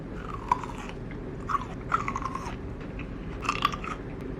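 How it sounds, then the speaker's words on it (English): Crisp, juicy crunching of green grapes being bitten and chewed close up, with sharp bursts at irregular intervals over a low background hum. "even if you're not a big traditional green grape fan, listen to this crunch."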